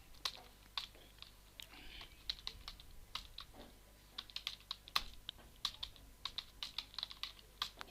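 Someone types on a computer keyboard while writing text in Microsoft Word 2016, producing quiet, close key clicks in irregular bursts with short pauses, and no voice over them.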